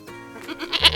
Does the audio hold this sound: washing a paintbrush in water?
no